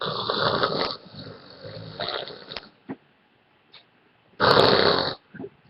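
A person imitating snoring as if dozing off, with several loud drawn-out snorts broken by quiet pauses, close to the mic.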